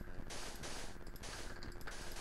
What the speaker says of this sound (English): Creeper explosion